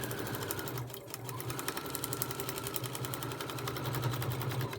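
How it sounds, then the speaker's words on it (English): A sewing machine stitches fabric pieces for a hummingbird wing, a fast steady mechanical chatter with rapid regular needle strokes running continuously and close up, no talking. "I'm going to sew from the dotted line to the dotted line"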